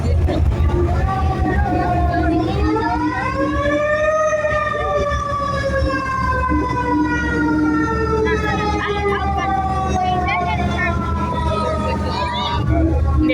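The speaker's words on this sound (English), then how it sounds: "There's the siren" A fire truck siren wails downtown, sweeping up and down in long rising and falling tones that are loud and close, over a rumbling engine.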